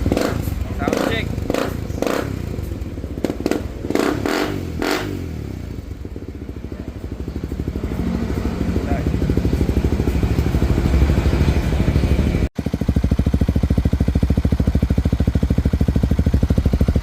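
A Suzuki Raider 150 fuel-injected motorcycle fitted with an EXOS X-6 exhaust and a new elbow pipe runs steadily and loudly at close range, after a few clattering knocks and brief talk at the start.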